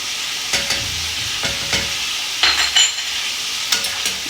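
Chicken frying in hot oil with ginger garlic paste for chicken pulao gives a steady, close sizzle, broken by several short scraping stirs of a utensil in the pan and no voices.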